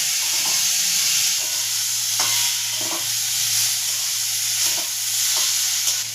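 Ground spices, including turmeric, fry in oil in a pan with a constant bright sizzle. Regular scraping strokes from a spatula stir them, close and fairly loud, with no voices.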